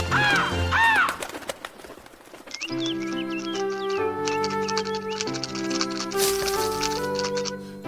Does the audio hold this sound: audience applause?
no